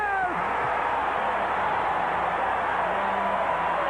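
A packed basketball arena crowd roars after the Houston Rockets hit a game-tying three-pointer against the Warriors in 1992, a dense, steady wall of cheering with a broadcaster's voice briefly heard over it.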